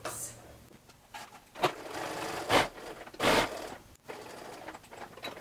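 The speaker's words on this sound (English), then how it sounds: "I'm going to take this over to the machine, and I'm going to move my needle all the way over to the right so that I can stitch this" Domestic sewing machine stitching a narrow seam on a peasant top, with the needle set far right; several short bursts of motor whir and needle clatter separated by pauses, fairly quiet and close.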